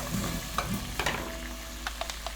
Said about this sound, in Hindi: चिली सॉस ऐड करेंगे, इसको इसमें अच्छे से फ्राई कर लें।